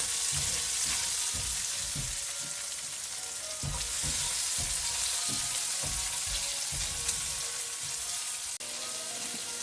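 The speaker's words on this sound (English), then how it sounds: "I'm now gonna go in with the onions. And let this soften up." Onions fry in a pot for Caribbean stew chicken, a loud, continuous sizzle with rhythmic scraping strokes of stirring spaced through it, heard alone without speech.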